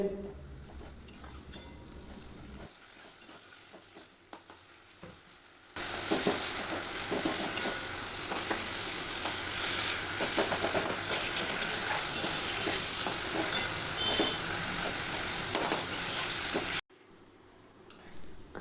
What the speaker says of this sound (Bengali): এবার বেশ খানিকক্ষণ ধরে এটাকে কষাতে থাকবো।